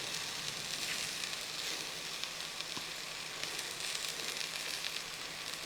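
Two ripe tomatoes frying with spice powders for Kerala-style dal curry (parippu) give a dense, even sizzle with fine crackling, steady and close throughout, with no one talking over it.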